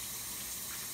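A washing machine fills with water: a steady, continuous rushing gush that stays at an even level throughout, heard close by with no talking.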